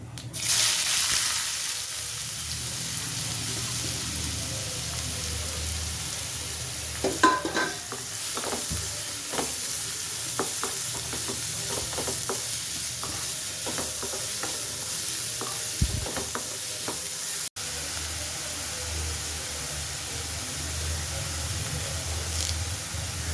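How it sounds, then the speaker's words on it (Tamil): Chopped onions sautéing in hot oil with fennel seeds for spicy pepper chicken, a constant crackling sizzle interrupted by repeated spatula stirs and scrapes against the pan. "எடுத்து கட் பண்ணி வச்சுருக்க வெங்காயத்தை சேர்த்துக்கலாம்"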